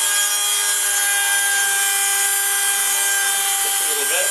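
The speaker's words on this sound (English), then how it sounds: "I don't know if you can hear me above the noise of the Dremel." A Dremel rotary tool runs continuously during work on a CNC printer build, a loud, steady high-pitched whine with slight pitch dips as it cuts.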